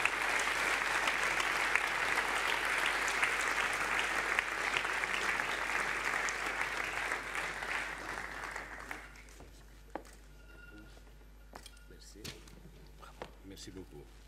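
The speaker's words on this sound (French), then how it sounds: "On l'applaudit bien fort." An audience at an awards ceremony gives loud, sustained applause that fills the hall for about nine seconds, then stops abruptly, leaving room noise and a few knocks.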